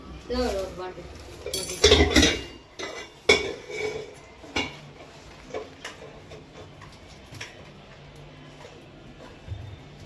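Metal spoon clinking against steel dishes and pots in a home kitchen, a burst of clattering clinks early on, then sparse light taps, with people talking nearby.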